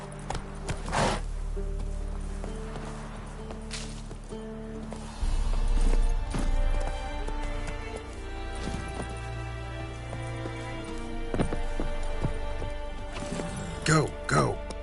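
A horse being ridden, its hooves clip-clopping in a steady rhythm under near-continuous talk, with a few louder thumps and movement sounds toward the end.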